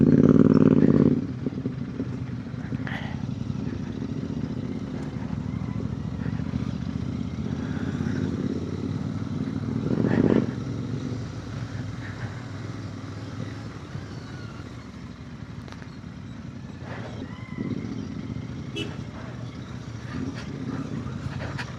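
A group of Royal Enfield 650 twin motorcycles riding off-road on a trail near a waterfall: a continuous low engine drone with rough rumbling and occasional clatter, one louder surge early on.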